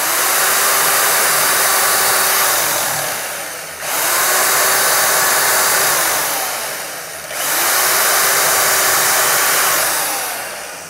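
A belt grinder on the flat platen removes glue from a Damascus knife handle, making three long, loud, steady grinding passes. Each pass tails off slightly before the next begins, with no talk.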